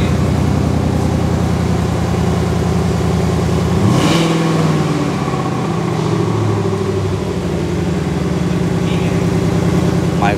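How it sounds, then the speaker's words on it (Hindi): A 5.0-liter V8 Ford Mustang GT with stock exhaust runs loudly and steadily, with a rev swelling up around the middle before settling back to a deep, smooth rumble. "इसके अंदर स्टॉक एग्जॉस्ट में आपको एक स्मूथ साउंड आता है,"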